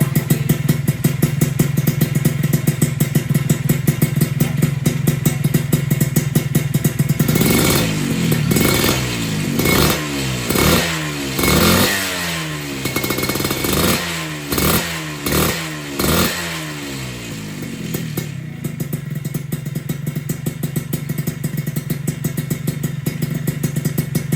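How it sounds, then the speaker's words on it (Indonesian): A rebuilt Suzuki Satria Hiu motorcycle engine idles steadily and loudly up close, then revs repeatedly in a rising and falling rhythm before settling back to idle. "jadi engine sudah hidup, soundnya tadi udah kita denger ya"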